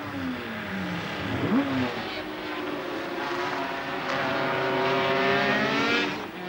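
Racing sidecar outfits roar around a circuit, engines droning steadily with rising and falling pitch as they pass, loud and continuous with no voices.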